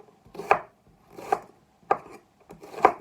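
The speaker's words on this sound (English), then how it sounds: "I'm now going to slice" A knife slices through a white onion on a board: four crisp, evenly spaced cuts close by, each a short crunchy chop followed by a brief pause, with no talking.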